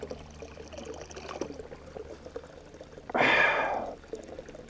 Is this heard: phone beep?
no